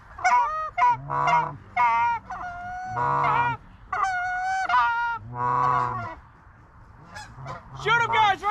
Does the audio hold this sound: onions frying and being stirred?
no